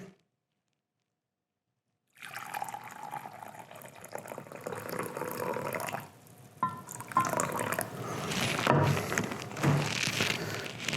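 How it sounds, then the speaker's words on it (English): Boiling water is poured into a freeze-dried chicken meal pouch after a moment of silence, a close, trickling liquid stream with drips and crinkling packaging sounds. "This one is single serving and 3/4 cup of boiling water. So let's get that in there."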